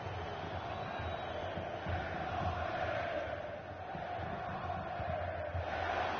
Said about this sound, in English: Being egged on by the crowd.